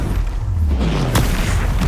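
A Confringo fire spell explodes in the Hogwarts Legacy video game, giving a single loud, near booming burst with a sharp crack in the middle of dense battle noise.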